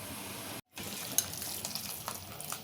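Sugar syrup for gulab jamun simmering over a low gas flame, a soft, continuous bubbling hiss with faint crackles, heard alone and fairly quiet, broken once by a brief gap.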